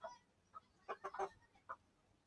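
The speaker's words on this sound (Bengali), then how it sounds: "এগুলো হচ্ছে সরাইল জাতের সব মুরগি।" Sarail breed chickens in a small backyard farm with a rooster, giving a few short, close clucks in quick bursts against quiet surroundings.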